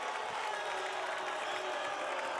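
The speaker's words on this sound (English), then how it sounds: "the Georgia Tech contingent is making a lot of noise in this building right now as they feel it" Georgia Tech fans in a basketball arena roar and cheer in a steady, dense crowd wash, mixed with some applause and whoops, with no individual voice standing out.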